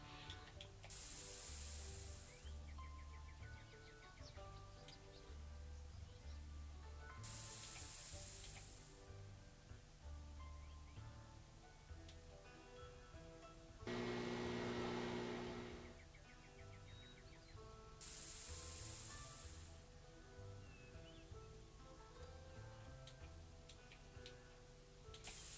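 Machines spraying boat parts in the factory game Smart Factory Tycoon: four loud hissing spray bursts of a second or two each, spaced several seconds apart, over a steady mechanical ticking and humming factory loop.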